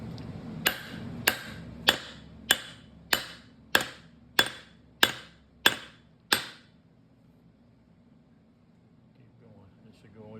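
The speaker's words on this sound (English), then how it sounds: "now we have to pound on the head of that thing while we drive the shaft out of this gear" A hammer pounds on the end of a shaft being driven out of a gear while a 41TE A604 automatic transmission is torn down. Ten sharp metallic blows land in a steady rhythm about half a second apart, then stop, followed by quiet.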